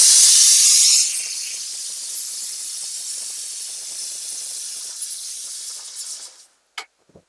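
Pressure cooker venting steam while cooking ghee rice, a loud sharp hissing whistle that fades after a second into a softer sustained hiss before cutting off, close by with no talking.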